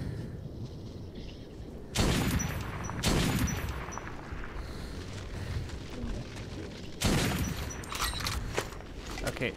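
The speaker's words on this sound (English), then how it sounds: "So shooting bullets isn't gonna help." Bullets fired in Metro 2033 land as three heavy, booming shots spaced a second or more apart, each with a ringing decay, over a low rumbling game ambience.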